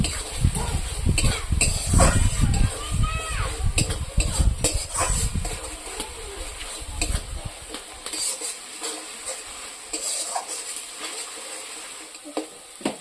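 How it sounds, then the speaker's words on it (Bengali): A paste of mustard, poppy seed and green chilli frying with tomato in a pan, with loud stirring and scraping over a sizzle early on, then quieter crackling and occasional utensil clinks. "সরষা, পোস্ত আর কাঁচা লঙ্কা আমি টমেটোর সাথে ভালোভাবে ভেজে নেব একটু।"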